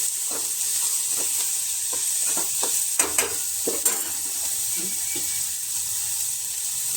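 Samosa filling frying in a pan, with a steady broadband sizzle throughout and a few close scrapes and stirring knocks of a spoon against the pan.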